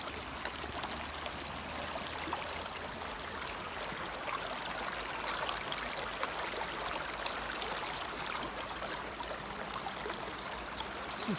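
Bucket of gravel being washed through a gold-panning sluice set in a stream, a steady, dense rush of pouring and trickling water throughout, with no talk.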